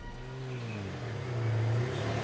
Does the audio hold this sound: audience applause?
no